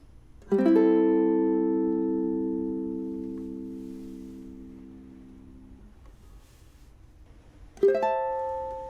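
A mahogany ukulele chord is plucked and left to ring, fading slowly over several seconds, then a second chord is struck near the end.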